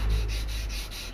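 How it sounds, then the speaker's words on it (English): Steady, continuous abrasive rubbing of 150-grit sandpaper on a sanding block against a steel knife blade held in a vise, close and moderately loud, with faint rhythmic strokes and no voices. "Use my 150 grit 3M sandpaper on my sanding block"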